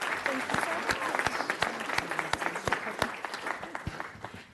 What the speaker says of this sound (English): Let's applaud them for Manufacturing Day.